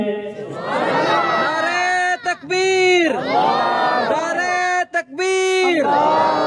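A crowd chanting Sunni religious slogans in unison, loud call-and-response phrases repeated rhythmically with short pauses between lines, near and energetic.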